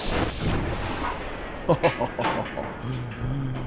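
A missile launches and explodes in Fallout 3, a muffled boom followed by a couple of sharp bursts, mid-loud under game noise.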